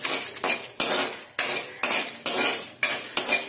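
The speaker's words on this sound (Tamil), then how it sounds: "இதோட காஞ்ச மிளகாய் நல்லா வறுத்து எடுத்துக்கலாம்." Red chillies dry roasting in a pan with no oil, a utensil scraping and clinking against the metal in about eight sharp strokes, close and fairly loud, with no voices.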